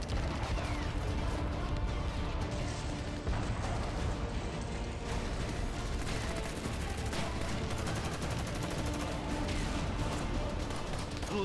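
Russian artillery shelling in a war zone rumbles in a dense, continuous roar with overlapping booms and crackling blasts, loud and steady throughout with no clear pauses.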